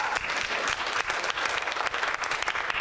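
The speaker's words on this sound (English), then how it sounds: "yeah, clap it up, because that's good." An audience at a conference closing plenary session bursts into loud, sustained applause: a thick wash of many hands clapping together at an even level from start to finish.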